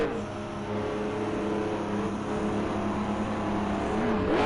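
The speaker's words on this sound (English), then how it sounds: "Doing some burnouts down the straight here" A Renault RS01 race car in Project Cars 2 doing burnouts in the pit lane, a continuous loud engine drone with a tonal whine, held steady and close without a break.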